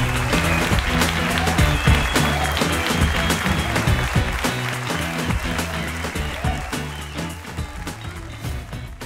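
Loud, sustained audience applause at a stand-up comedy contest as a comedian takes the stage, thick crowd clapping with sharp individual claps and rhythmic thumping music underneath throughout.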